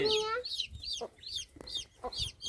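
A hen with her small chicks makes close, repeated soft clucks, mixed with high chick peeps in short bursts.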